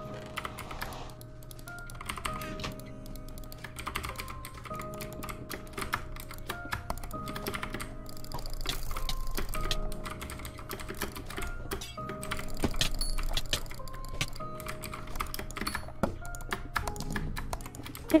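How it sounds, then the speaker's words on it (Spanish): Rapid, steady clicking and tapping from a computer mouse and keyboard while playing Minecraft, close and continuous with no talking. "me gusta el sonido del clic de ratón."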